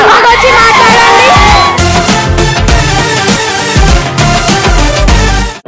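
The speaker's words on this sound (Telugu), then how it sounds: "గట్టిగా క్లాప్ చేశారు అమ్మాయి కోసం." Loud audience applause and cheering for a girl after a performance on a Telugu TV game show, a dense continuous roar of clapping, whoops and crowd noise running throughout.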